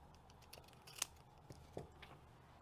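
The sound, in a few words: trimming a heat transfer label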